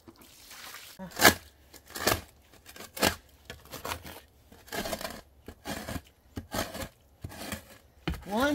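Repeated scraping strokes come at an irregular pace, each a sharp, rasping burst close by, separated by short quiet pauses.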